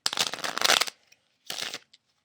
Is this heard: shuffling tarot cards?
yes